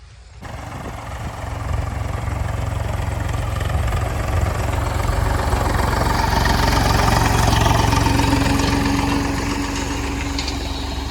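Tractor engine idling on a farm field after cumin sowing, a continuous broad mechanical drone that holds steady and fairly loud for the whole stretch, with no speech.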